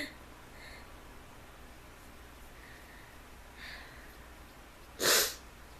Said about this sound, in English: my nose is tickling, I gotta sneeze